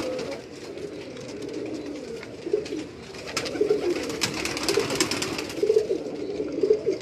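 Pigeons coo repeatedly in a hot rooftop coop in Karachi, soft rolling calls recurring through a steady background hum, fairly close and moderately loud.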